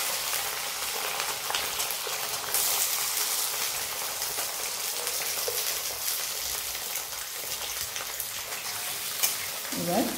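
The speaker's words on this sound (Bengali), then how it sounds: "তো রসুনটাও আমি লাল লাল করে ভেজে নিই।" Garlic frying in mustard oil sizzles steadily for several seconds, a dense crackling hiss close to the pan with a few faint clinks.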